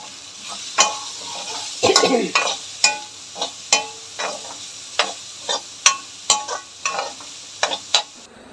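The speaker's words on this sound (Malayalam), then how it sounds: "ഇപ്പോൾ സവാളയൊക്കെ ഒന്ന് മൂത്ത് വന്നിട്ടുണ്ട്." Chopped onions, crushed ginger and garlic, green chilies and curry leaves fry for chicken chukka, with a steady sizzle under repeated clicks and scrapes of a spoon stirring the pan. No one speaks.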